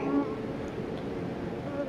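Steady, dense buzzing of many honeybees close by at a hive, a continuous low hum with no talking.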